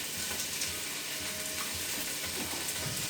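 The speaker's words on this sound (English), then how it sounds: "Now you can hear that that chicken is starting to sizzle." Close, steady sizzling of raw chicken frying in a hot pan, a continuous crackling hiss with faint clinks, no one speaking.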